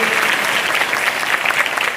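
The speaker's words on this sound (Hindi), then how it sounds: "उन सब गुरुजनों के लिए एक बार फिर से जोरदार ताली बजाएंगे।" An audience at a girls' senior secondary school board-results event breaks into loud, sustained applause for the teachers, a dense clatter of many hands close by.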